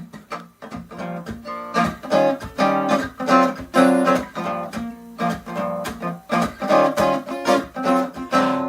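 A keyboard plays a repeating flat six, five, one chord progression in steady rhythmic stabs, full and bright, without any voices.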